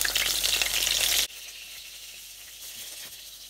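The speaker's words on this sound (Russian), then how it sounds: "будем обжаривать на сковороде в растительном масле" Loud sizzling of eggplant and tomato frying in hot vegetable oil in a pan, cutting off abruptly after a second, followed by a quiet background with faint clinks.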